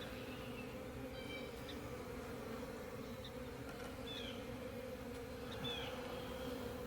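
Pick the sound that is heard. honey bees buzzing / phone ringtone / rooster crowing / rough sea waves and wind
honey bees buzzing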